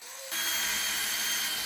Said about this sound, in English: So I'm just gonna use these kind of big, dumb, heavy coarse threads and screw directly into the aluminum.